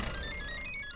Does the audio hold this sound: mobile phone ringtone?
yes